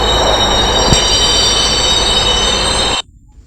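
Loud, steady rumble of a train running on rails with a high metallic wheel squeal, cutting off abruptly near the end.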